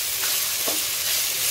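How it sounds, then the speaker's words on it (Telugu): Grated fresh coconut, coriander seeds and spices fry in a pan for a mutton chops masala, giving a steady close sizzle with a couple of soft stirring scrapes and no talk. "పచ్చి కొబ్బరి ఇలా అన్ని వేసి బాగా ఫ్రై అవ్వాలి"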